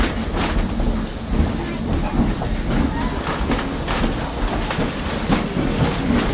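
An 1880 Train excursion in the Black Hills, hauled by a diesel engine, rolls along the rails with a steady rumble and clatter that stays constant throughout, with faint voices mixed in.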